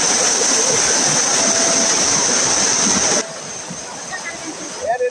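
San Isidro Falls in Antipolo pours with a loud, steady, broadband rush of water that suddenly drops to a quieter, more distant wash, ending in a brief clatter.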